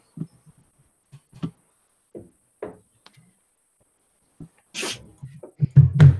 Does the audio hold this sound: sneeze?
yes